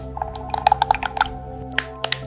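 Soft, irregular bubbling pops of melting chocolate, a quick cluster of small blips over a low steady hum.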